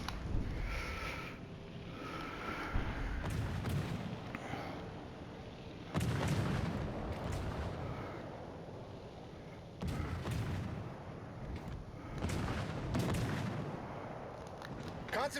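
Naval guns fire from warships in an online video game, producing repeated heavy booming salvos in bursts of several seconds with rumbling tails, loud against a steady background hum.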